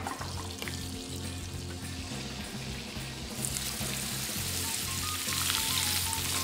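Butter sizzles and fries in pans on a stove, a steady broadband hiss that holds throughout and grows a bit louder and brighter toward the end, with low kitchen hum beneath.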